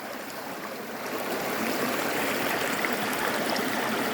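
Clear mountain stream in the Vorokhta area of the Carpathians, rushing steadily over rocks. The flow is close and loud, a continuous broadband wash that swells slightly after the first second and then holds, with no voices.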